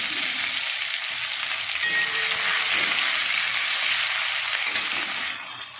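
Onions frying in hot oil with five-spice tempering, a continuous dense sizzle heard up close and steady throughout before easing off at the very end.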